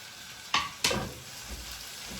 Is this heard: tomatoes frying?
yes